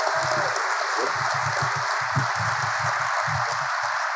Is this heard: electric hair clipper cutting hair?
no